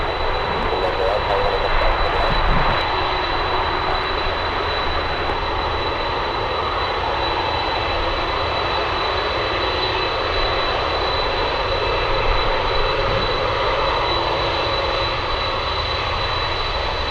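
An Alaska Airlines jet in crab livery roars in to land at Anchorage in a strong crosswind, its engine noise loud and steady throughout, with voices talking over it.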